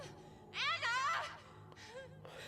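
A video game character gives a drawn-out yawn with a rising, wavering voiced tone, then a shorter sigh-like breath, heard fairly close over a low steady game background hum.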